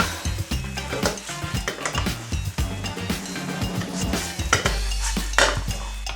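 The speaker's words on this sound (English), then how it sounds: "Once you've added the prawns in, give everything a toss around." Prawns for sambal prawns are tossed in a metal pan, with a quick clatter of utensil scrapes and clanks over a soft sizzle, ending in a steadier frying hiss.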